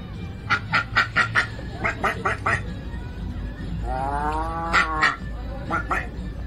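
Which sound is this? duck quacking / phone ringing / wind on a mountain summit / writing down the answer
duck quacking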